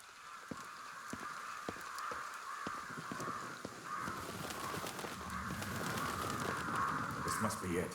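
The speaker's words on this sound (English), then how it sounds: "The crows are going crazy." Crows caw excitedly in the video game Ghostwire: Tokyo, many harsh calls overlapping in a noisy flock over steady game ambience, with speech running alongside.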